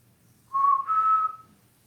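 A person whistles two clear, close notes in quick succession, the second held slightly longer and rising a little, against near silence.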